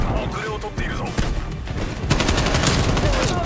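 Rapid, continuous AK-74u fire in Call of Duty: Black Ops Cold War, close and loud in dense automatic bursts, with a faint voice underneath.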